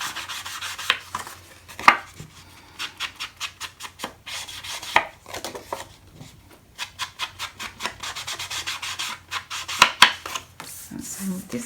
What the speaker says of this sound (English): I'll just do a little bit quick inking where I've trimmed those tabs off